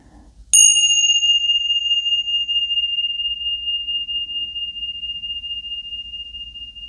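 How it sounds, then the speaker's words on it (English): A bell is struck once during a tarot reading, giving a bright, clear ring that lingers and slowly fades over several seconds above a faint low hum. "let me ring the bells"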